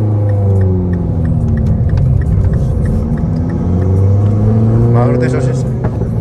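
A 2012 Mini Cooper Coupe John Cooper Works engine hums steadily from inside the car, its pitch rising and falling with gear changes while people talk throughout.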